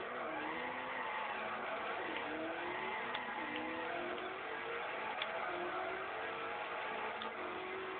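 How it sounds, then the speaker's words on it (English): Forza Horizon cars roar through a drag race, a sleeper build against a Scion, with engines straining steadily as the pitch of several gears climbs in overlapping sweeps, loud and continuous with no talk. "Drag racing, my sleeper against Cyan"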